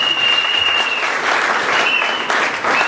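A church congregation applauding during a Sunday worship service, a steady, dense clapping that holds throughout, with a faint sustained tone running through it.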